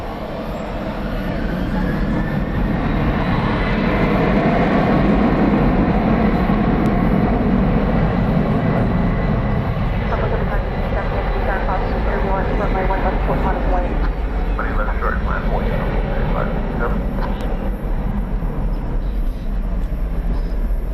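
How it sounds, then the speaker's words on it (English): An Iberia airliner takes off at night at DFW Airport, a broad, loud jet roar that swells and holds steadily, with faint radio chatter above it. "We don't often get to see Iberia take off from the west side."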